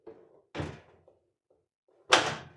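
Inner glass panel being lifted out of a Zanussi oven door, two knocking clunks of glass and metal, the second louder and sharper, with faint rattles between them.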